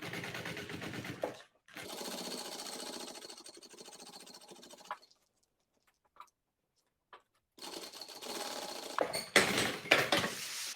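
A sewing machine topstitches a seam on fabric for a multipurpose organizer case, fixing a strap in place, in close rapid stitching runs separated by a quiet gap with faint handling clicks, no talking.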